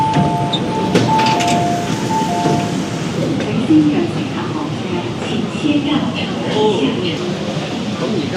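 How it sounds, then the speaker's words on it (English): A Hong Kong metro train pulls into a station with a continuous heavy rumble and rolling noise, faint tonal chimes and squeals above it, and a busy platform ambience. "You can see the train coming in right now."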